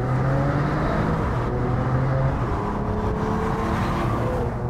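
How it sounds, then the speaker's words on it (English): Exhaust of a 2021 Mercedes-AMG CLS 53 on overrun, a loud, steady low engine drone with harmonic bands holding throughout, no voices over it. "any concerns on the exhaust, even without performance exhaust option, don't worry about it. It sounds fantastic"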